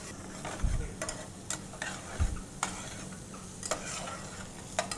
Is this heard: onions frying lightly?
yes